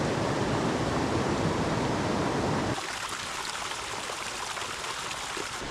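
A creek flows nearby along a rough bushwhacked stretch in the backcountry, a steady broadband rush of running water that is loud at first and then drops to a softer, more distant babble halfway through.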